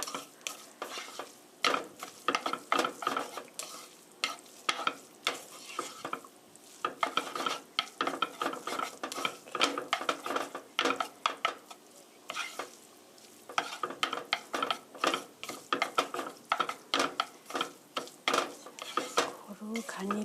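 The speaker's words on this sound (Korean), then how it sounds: "1분간 볶아주세요. 1 minute stir fry." Spaghetti and cabbage are stir-fried in a pan with a utensil, making continuous rhythmic scraping and clattering against the pan over a light sizzle, close and fairly loud throughout.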